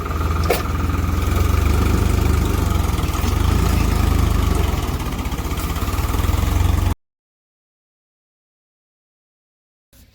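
A tractor engine in a farm field, a loud steady idling rumble for about seven seconds that then cuts to silence, with a brief return at the very end.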